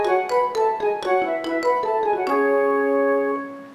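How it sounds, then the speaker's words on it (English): Korg Kross keyboard flute patch with an added marimba layer, playing a run of plucked, percussive notes with a soft flute tone underneath before a final note sustains and fades. "I added an extra layer of marimba to the flute patch."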